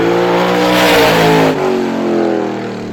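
A supermodified race car on a speedway time trial lap roars loud and close with a high, harmonic engine whine that rises, then drops as it passes and eases off, with no voices over it.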